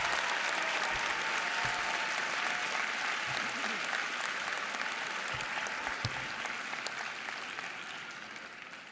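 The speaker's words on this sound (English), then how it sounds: "Can we take a moment and give all the moms and dads a round of applause?" A commencement audience claps in a dense, sustained round of applause for parents, the sound steady and full before tapering slightly toward the end.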